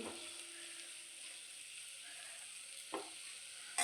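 Spiced masala frying in oil for a broccoli dish gives a faint, steady sizzle, broken by a couple of sharp stirring clicks from a spoon against the pan.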